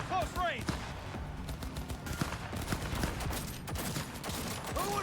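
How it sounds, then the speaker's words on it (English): Close-range gunfire in the Cyberpunk video game cracks out in rapid, dense bursts over a continuous background of battle noise, with several short sharp shots standing out. "Firing at close range."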